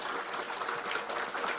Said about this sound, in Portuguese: recebesse uma salva de palmas calorosas da nossa plateia